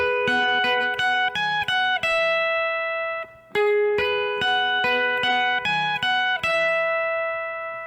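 The opening riff of a song is played on guitar with a held chord shape high on the neck, clear picked notes ringing in a steady rhythm with one brief pause midway.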